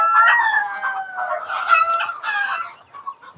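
Chickens cluck and a rooster crows nearby at a small poultry farm, several birds calling over one another in a busy, overlapping chorus.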